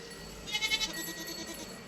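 Goat bleating in a short wavering cry around the middle of the moment, fairly close, with a quiet outdoor background and no talk.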